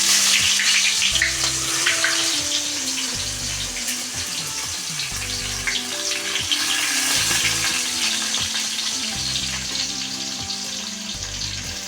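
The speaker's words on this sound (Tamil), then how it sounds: "வெங்காயம் நல்லா செவக்க வதங்கணும்." Four large onions frying in hot oil with a bay leaf, cinnamon sticks, cardamom pods and cloves for prawn biryani, giving a steady, dense sizzle that carries on evenly throughout with no talking.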